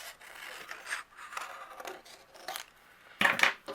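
Scissors trimming out a paper button for a handmade card, a series of close, dry snipping and scraping strokes that end in two louder, sharper cuts.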